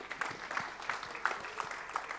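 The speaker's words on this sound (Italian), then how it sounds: "Facciamo un lungo applauso ancora" Applause from an outdoor evening audience at a summer event, a thin spread of rhythmic clapping heard fairly faintly, with a few sharper claps standing out.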